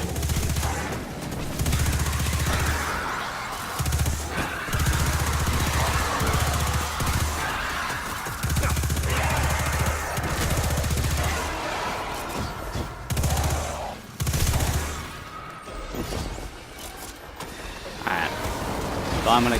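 Gunfire from the Recluse submachine gun in Destiny 2, rapid bursts stuttering on and off in a busy PvE fight, loud and close amid other game noise and effects.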